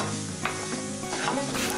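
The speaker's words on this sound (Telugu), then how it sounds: "తర్వాత అదే కడాయి పొయ్యి మీద పెట్టి బియ్యాన్ని వేపుకోవాలి." Rice dry-roasting in a kadai, stirred with scraping and gentle sizzling rustles, close and fairly quiet with no voices.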